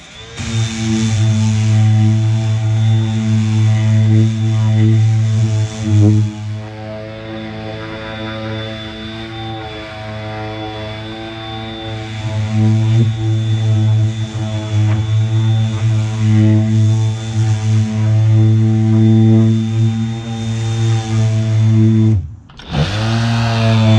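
A DeWalt 20V MAX XR cordless palm sander runs steadily on wood, a loud continuous motor whine with a strong low hum and rasping surface noise, pitch shifting slightly between speed settings before stopping abruptly near the end.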